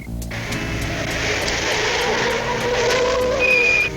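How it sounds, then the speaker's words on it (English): Squeaky car brakes in a 1987 cartoon whine over a rumbling engine, rising into a thin, high squeal near the end of the stretch. "Well, I better take a look at those squeaky brakes."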